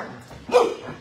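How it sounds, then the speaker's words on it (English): A dog gives one short, close bark in the middle, over a low background murmur. "these three are they're just very good-looking dogs"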